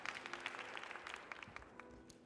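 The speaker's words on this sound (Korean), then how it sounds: "자, 박수 보내주시기 바라겠습니다." Applause from a live audience at a Korean science creativity concert lesson competition, a quiet, steady patter of scattered claps with light crowd noise throughout.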